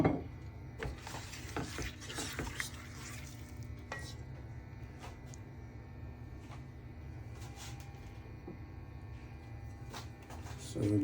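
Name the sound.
stirring chopped onions in cooking pot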